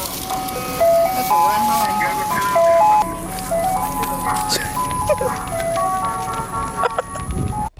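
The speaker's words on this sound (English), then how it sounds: "We just had to go down to the ice cream truck." An ice cream truck's melodic jingle plays steadily throughout, its bright repeating tune clear over nearby voices talking and outdoor background noise.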